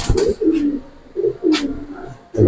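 A racer pigeon coos in repeated low rolling phrases, about four close, loud calls spaced across a couple of seconds, with soft rustles between them.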